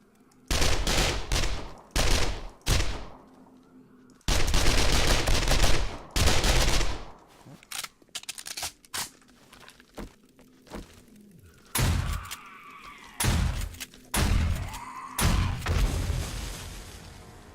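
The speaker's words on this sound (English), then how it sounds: "it's someone shooting at me stuff that explodes" Explosive rounds fired at the player in 7 Days to Die with the BorderlandZ mod, heard as loud bursts of gunfire and booming blasts in irregular clusters, with quieter stretches and ringing explosion tails in between.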